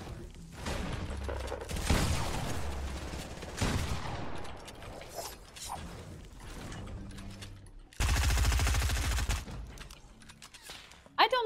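A legendary pump shotgun in Fortnite fires several heavy blasts, followed by mechanical pump-action clicks and rattles, with a voice talking between shots.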